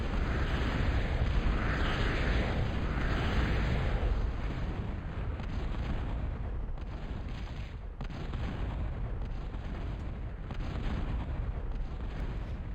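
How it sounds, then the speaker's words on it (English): Battleship artillery in the Total Annihilation real-time strategy game, a dense rumble of heavy cannon fire and explosions, steady and loud across the clip, with no voices. "And the Millennium opens fire."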